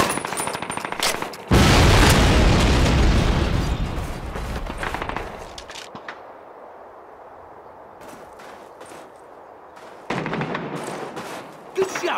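A flak gun is blown up in a Call of Duty battle at a V2 rocket site. A heavy blast erupts amid rattling gunfire and sustained rumble, then fades into sparse shots and a later burst of fire.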